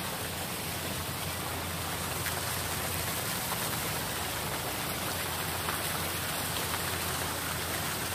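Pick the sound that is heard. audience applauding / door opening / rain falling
rain falling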